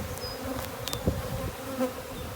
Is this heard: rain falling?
no